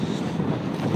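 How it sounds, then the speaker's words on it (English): Cold wind buffeting the microphone on the Mt. Baldy summit, a steady low rumbling roar with gusty swells throughout, loud and close, with no voices. "The wind up here is frigid."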